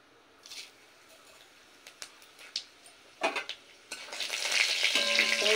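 A bay leaf, a dried red chili and five-spice seeds hit hot mustard oil in a wok, preceded by a few light taps, then bursting into a loud, dense, crackling sizzle that keeps building.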